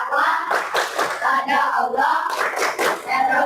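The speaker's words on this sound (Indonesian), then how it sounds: "Yang pertama, tepuk Islam." Children in an Islamic primary classroom clap out the tepuk Islam chant in short, rhythmic bursts of hand claps, with voices chanting along in time.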